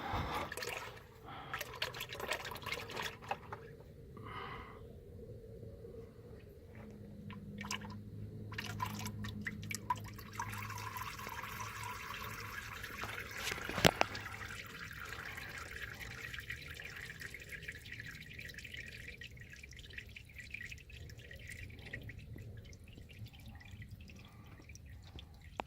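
Used engine oil drains from a 2005 Ford F-250 with the 6.0 diesel, a faint steady trickle and drip running for the whole stretch, quiet and continuous, with no talking.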